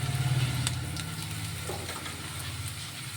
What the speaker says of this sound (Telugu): కరివేపాకు కొత్తిమీర ఇలా ఫ్రై అవ్వాలి ఇలా ఫ్రై అయ్యాయి